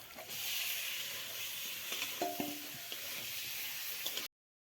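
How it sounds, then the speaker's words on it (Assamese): Fish frying in oil in a village home kitchen, a soft continuous sizzle with a few faint clinks of a utensil midway, close and quiet, ending abruptly. "এতিয়া মই মাছখিনি বহুত ধুনীয়াকৈ ফ্ৰাই কৰি আছোঁ তেলখিনিত"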